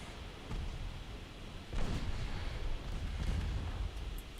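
Warship main guns in the naval battle game Ultimate Admiral Dreadnoughts give a few deep, rumbling booms over a steady roar of wind and sea, distant and muffled, with no talking.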